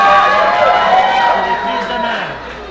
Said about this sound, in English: Oh, I heard people cheering.